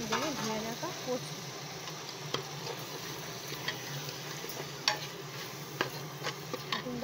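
Washed lentils being stirred into spices in a hot pan, a soft scraping and gentle sizzle with a few sharp clicks of a spoon against the pan, fairly quiet throughout.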